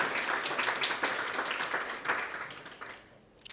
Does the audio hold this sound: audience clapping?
yes